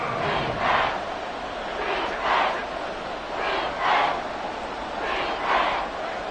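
Football stadium crowd cheering and roaring in broad, continuous waves, swelling roughly every second and a half into louder surges over a steady distant din, with no clear talk.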